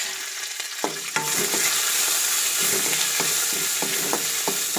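Whole curry leaves frying in hot oil for Chettinad chutney, crackling loudly and steadily after a quieter start, with sharp spatters throughout.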